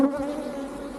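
Honeybees swarming on the frames of an open hive during a routine inspection, a loud, close, continuous buzzing drone with no voices.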